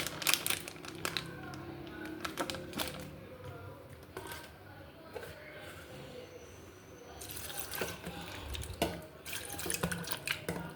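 Water is poured from a tap over tamarind and dried plums to rinse them in a home kitchen. It makes an uneven splashing trickle with drips and clatters against the container.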